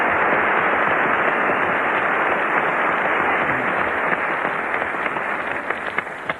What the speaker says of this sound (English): I think we ought to have a big round of applause for the real Mr.